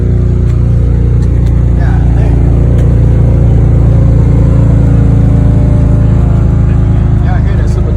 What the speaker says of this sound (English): Y'all hear that Supercharged Camry